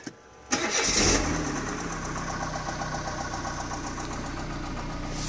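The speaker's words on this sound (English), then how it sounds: "Start her up." A 2003 Peugeot 307 automatic five-door cranks briefly and fires up, then settles into a steady, close idle with no talking.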